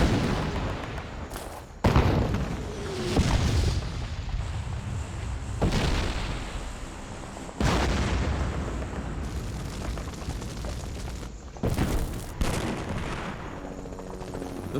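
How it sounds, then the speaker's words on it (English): Prolonged artillery bombardment at the siege of Khe Sanh, with heavy booming blasts landing every couple of seconds over a constant roar of rumbling fire and debris, loud and close throughout. "subjected to a prolonged bombardment"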